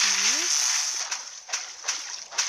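A video game character wades through water, leaving a rhythmic series of four splashy steps spaced about half a second apart, with a short voice at the start.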